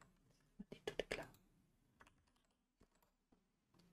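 Bursts of keyboard typing on a computer keyboard, a quick cluster of clacks followed by sparse, fainter keystrokes, close and fairly quiet while someone codes a web form in React.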